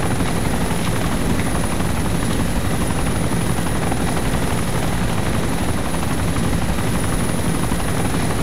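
A helicopter engine in the video game ArmA 2 roars loudly and steadily, a dense unbroken rotor and turbine wash with a thin high whine on top.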